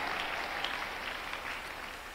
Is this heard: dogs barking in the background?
no